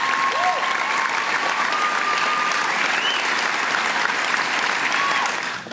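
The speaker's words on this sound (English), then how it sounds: "can I get a round of applause for the fantastic staff?" A school audience at a 2012 graduation ceremony applauds the staff with steady, dense clapping that fills the room throughout, fading slightly at the very end.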